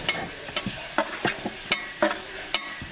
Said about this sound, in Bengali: মশলাগুলো আগে একটু কষা ফেলতেছি, দেখেন।